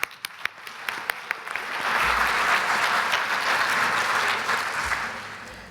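Conference audience at the opening ceremony of the Alzheimer Europe Conference in Helsinki applauds carers and supporters; a few scattered claps grow into full, steady applause that fills the hall before easing slightly.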